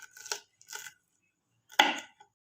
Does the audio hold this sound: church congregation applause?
no